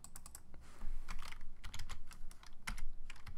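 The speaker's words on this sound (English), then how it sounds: "now what you want to do is you want to type in" Someone types on a computer keyboard, quick irregular clicking keystrokes in short bursts, close by and fairly quiet.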